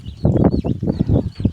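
Free-range chickens and chicks on a farm field clucking in a quick run of about eight close, loud low clucks with faint high chick peeps behind.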